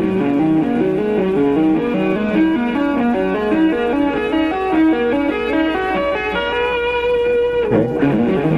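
Two-handed tapping on electric guitar cycles through a fast repeating sequence, climbing three strings and dropping back one, with even, ringing, slightly overdriven notes in a continuous loop and no voices.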